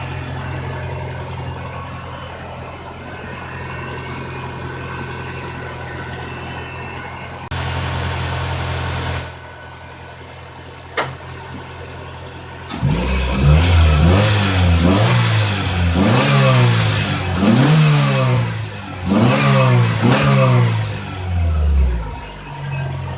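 Car engine after injector cleaning, running with an OBD0 distributor: steady low idle for about twelve seconds, then a series of quick throttle blips rising and falling in pitch, close and loud with no talk.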